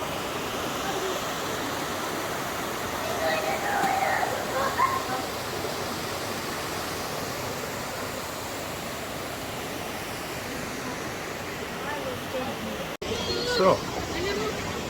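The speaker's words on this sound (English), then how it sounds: "So, it's a lovely waterfall." A waterfall at Finnich Glen in Scotland gives a steady, even rush of falling water, moderately distant, with a person's voice intermittently heard over it and a brief handling knock near the end.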